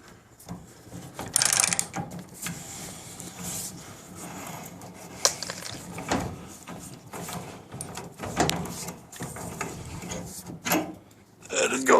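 A hand-operated ratcheting pipe threader cuts threads onto galvanized pipe, giving a series of irregular clicks, creaks and grinding scrapes close by, with bursts of louder metallic ratcheting spread over the stretch.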